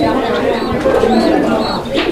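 Soft, repeated cooing of a male fancy pigeon at a pigeon farm, close by, mixed with someone talking over it.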